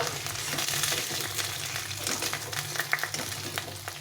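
Paneer cubes shallow-frying lightly in hot oil in a pan give a steady, close sizzle with soft crackles and occasional stirring clatter throughout, no voices.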